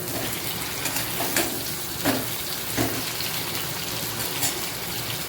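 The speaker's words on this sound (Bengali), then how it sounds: "এবার আলুটা তেলের ওপর একটু হলুদ আর একটু লবণ দিয়ে ভালো করে ভেজে নিচ্ছি" Potatoes with turmeric and salt fry in hot oil in a pan, making a steady, close crackling sizzle with a few louder pops and spatters scattered through it.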